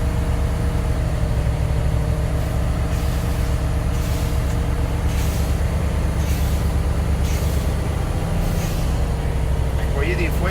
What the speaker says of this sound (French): On va entendre un petit bruit quand que l'assècheur d'air va se vider, on va entendre un petit pchit